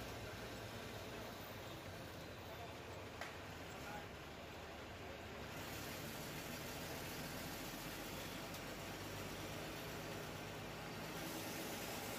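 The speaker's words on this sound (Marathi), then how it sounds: "आपली गाडी आता एस टी स्टँडमध्ये प्रवेश करते." A State Transport bus on the Tuljapur to Solapur road pulls into the bus stand after dark, heard from inside as a faint, steady engine and road rumble with no clear breaks.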